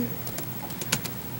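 Quiet, rapid keystrokes on a computer keyboard, a short irregular burst of clicks close by, with one sharper tap near the end and no talking.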